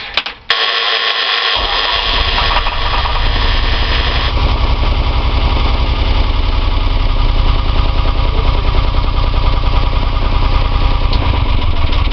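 A Fisher 30 boat's Volvo MD-series marine diesel, just fitted with a new fuel pump, cranks briefly and catches, then settles into a loud, steady, close-up rumbling run that continues without pause and without any talk.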